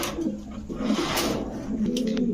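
Low, soft cooing of pigeons repeats in short phrases, close by, over a faint background hum and a few brief bird chirps.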